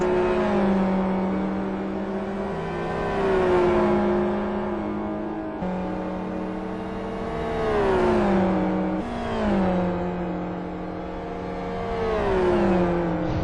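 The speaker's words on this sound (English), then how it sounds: "on the straights, however, although he's driving the FZ GTR, he's losing plenty of time, and White can stay in his slipstream" Race car engines in a Gran Turismo video game race, including an FZ GTR: loud, continuous high-revving engine drone with pitch rising and falling through gear shifts, steady throughout.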